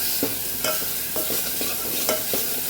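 A spoon stirs masala with red chilli powder, turmeric and coriander-cumin powder in sizzling oil, scraping in repeated strokes over a steady frying hiss, close and with no voices.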